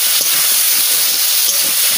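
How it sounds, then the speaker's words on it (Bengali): Potatoes dropped into a hot pan of spices: a loud, bright, continuous sizzle and hiss lasting about two seconds, close up, with no speech. "আমি আলুও দিয়ে দিচ্ছি,"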